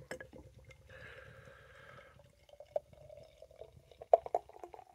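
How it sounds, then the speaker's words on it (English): Northern Monk Brew Co. beer poured into a glass, a faint gurgling trickle that turns into scattered drips and splashes toward the end, quiet and close, with no voices. "Let's pour it in."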